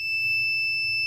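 Homemade PICAXE 18M2 fire alarm sounding after detecting smoke, a steady high-pitched electronic tone held continuously at moderate volume over a faint low hum.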